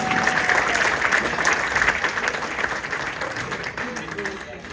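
A church congregation claps together in sustained, dense applause to acclaim God, a loud, steady wash of many hands lasting throughout.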